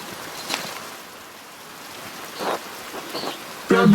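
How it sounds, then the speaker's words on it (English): Steady rain falls in the medieval narrative game Pentiment, a constant soft hiss of drops with a few brighter splashes, ending with a short musical or voice-like tone over the downpour. "Look at this rain."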